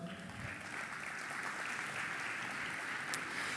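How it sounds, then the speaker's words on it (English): An audience at a technology conference applauds as a guest is welcomed on stage, a broad sustained wash of clapping from a large crowd, even and moderately distant, with no talking above it. "Yes, you can applaud."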